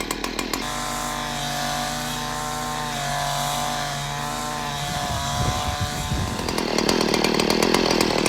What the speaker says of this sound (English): So at this point, I'm going to strap it on, go to work.